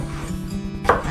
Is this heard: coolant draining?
no